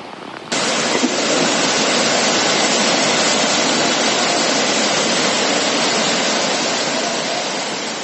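Floodwater rushes loudly in Iran's flooding, a dense, steady roar like a torrent that starts abruptly and holds unbroken to the end.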